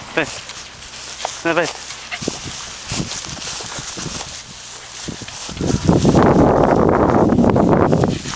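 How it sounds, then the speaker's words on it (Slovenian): A dog barks a few times amid people talking, with rough gusty noise building in the latter half. "Pes."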